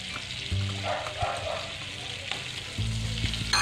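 Minced garlic sautés in melted butter with a continuous crackling sizzle and stirring scrapes, close and fairly loud, growing busier toward the end.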